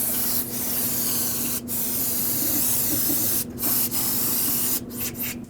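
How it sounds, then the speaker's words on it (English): Aerosol brake parts cleaner sprays onto a 2009-2010 Dodge Ram 1500 rear axle in a loud, steady hiss, broken by a few brief pauses as the nozzle is released and pressed again, very close up. "spray it down with some brake parts cleaner"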